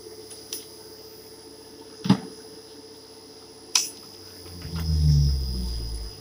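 An electric motor runs steadily while its rotation speed is measured with a tachometer during motor maintenance. It gives a constant tonal hum with a few sharp clicks, and a deeper rumble swells near the end.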